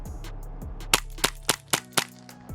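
A Tandemkross Cthulu gas blowback airsoft pistol fires five sharp, snappy shots in quick succession at a close-quarters range, each crack ringing out over a low steady hum.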